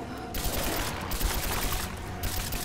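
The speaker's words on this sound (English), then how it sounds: "I'm gonna try the rifle" Rifle fire in Rise of the Tomb Raider rings out as a rapid series of shots, moderately loud against a busy, noisy game background.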